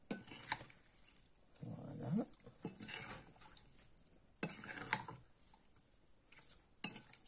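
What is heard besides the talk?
mixing marinated veal pieces for skewers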